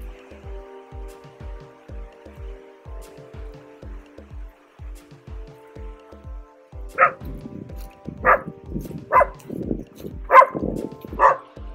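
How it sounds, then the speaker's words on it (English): Two dogs bark in a rapid, overlapping burst, fairly close, in a neighborhood in Orizaba, Mexico, after a stretch of steady rhythmic thumping in the background. "There's a dog. Two dogs."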